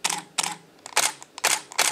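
A Canon EOS 5Ds fires its shutter and mirror repeatedly, giving sharp, close mechanical clacks in quick paired bursts, about five shots, with no talk.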